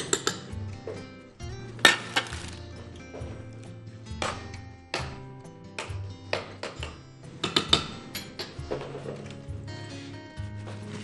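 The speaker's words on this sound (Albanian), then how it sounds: "Do t'i kaloj të gjitha në tenxhere." Ingredients for a soup of broad beans, tomatoes and aromatic herbs are moved into a cooking pot, with repeated clinks and clatters of utensils against cookware in irregular bursts, close by and with no talking.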